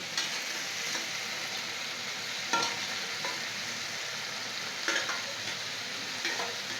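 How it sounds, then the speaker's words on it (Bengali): Fried prawns added back into a pan of frying food, a continuous soft sizzle with a few brief knocks and scrapes of a stirring spoon, moderately quiet and close. "এরপরে মা ভেজে রাখা চিংড়ি মাছগুলো দিয়ে দিচ্ছে"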